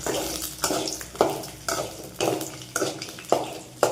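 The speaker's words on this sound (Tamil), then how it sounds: "மிதமான சூட்டில் வச்சுக்கிட்டு நல்லா வறுத்துடுங்க" Chana dal, mustard seeds, garlic and dried red chilies fry in oil over medium heat for tamarind rice, with a steady sizzle broken by regular scraping stirs of a spoon against the pan.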